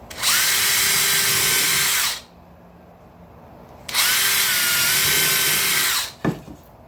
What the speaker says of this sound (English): For that I have my drill.